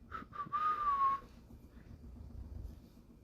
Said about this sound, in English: Candace whistles in the background.